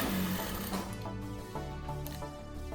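A Sun Special SS1967X straight-stitch industrial sewing machine runs in short stitching bursts, its motor whirring with brief pauses and restarts, close and fairly loud with no talking.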